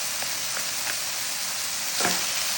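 Onion and garlic frying in a pan give a steady, close sizzle, with a few brief scrapes from stirring and a louder hiss swelling near the end.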